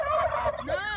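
A person imitates a turkey gobble with the voice, giving a loud, close warbling call that runs for about a second with a short break partway through.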